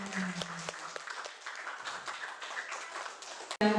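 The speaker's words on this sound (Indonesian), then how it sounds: "Tepuk tangan dulu untuk semuanya." Students in a classroom clap together after their group discussions, a short burst of scattered, moderately loud applause that fades out, with faint voices in the room.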